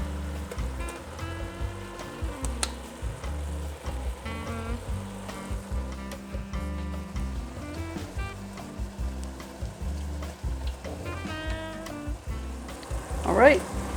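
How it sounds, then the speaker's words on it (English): Ground beef pushed aside as stew meat is added to a pot for beef barley soup, a constant hissing sizzle with scraping and clinks from stirring. "I'm going to move the ground beef to the side and add the stew meat."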